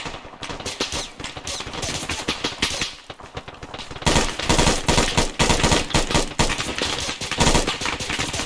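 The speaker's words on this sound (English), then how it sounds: "MG, get that suppression up now" Sustained machine gun suppressing fire in the military shooter Arma 3, loud bursts of rapid automatic shots that run almost continuously, with a brief lull and then heavier fire.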